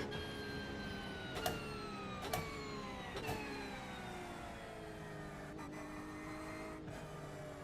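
A Porsche race car engine in a multiclass racing video game, a steady mid-pitched drone that slowly falls in pitch as the car slows, with a few sharp clicks or knocks along the way.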